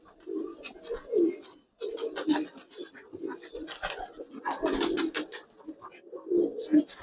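A female Giribaz silver racer pigeon coos close by in a series of soft, low, throaty coos repeated in bursts, with light scratching and handling noise between them.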